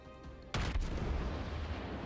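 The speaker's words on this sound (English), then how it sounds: "we fire off a good salvo of 6 shells" A salvo of naval ship guns firing shells in World of Warships: a sudden heavy boom after a quiet start, followed by a second blast and a long rumbling tail. No voices.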